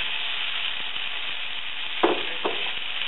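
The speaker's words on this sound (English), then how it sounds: "I'm going to get the potatoes straight into the frying pan here. As you can see, it is smoking hot right now." Potatoes frying in a smoking hot old cast iron pan, a steady loud sizzle with a couple of brief stirring scrapes partway through.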